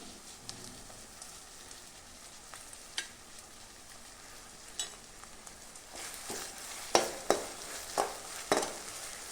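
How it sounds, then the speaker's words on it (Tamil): Onion, garlic and curry leaves sauté in castor oil with a soft, continuous sizzle. Toward the end, a series of louder, crisp scraping stirs rings against the pan. "இந்த வெங்காயம் பாதி அளவுக்கு வதங்கட்டும்"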